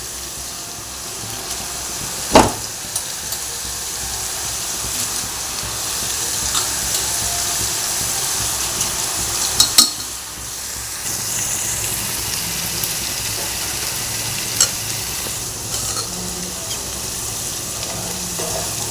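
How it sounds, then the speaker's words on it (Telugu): Rice going into a pot of boiling water for biryani: a steady, close bubbling hiss throughout, broken by a few sharp clatters and splashes, with no talking. "ఇప్పుడు బియ్యం వేసుకుందాం."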